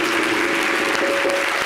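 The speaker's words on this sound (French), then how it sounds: "Est-ce qu'on peut applaudir?" Audience applause on a French television holiday show, a loud, continuous, dense wash of clapping heard alone for the whole stretch, with a faint tonal hum running underneath.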